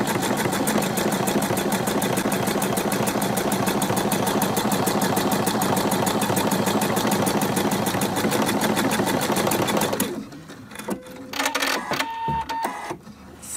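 A sewing machine stitches a buttonhole in children's bloomer trousers, a steady fast mechanical chatter running loud and continuous for about ten seconds before stopping, followed by a few quieter handling clicks and rustles.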